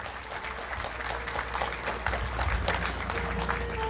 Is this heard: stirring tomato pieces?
no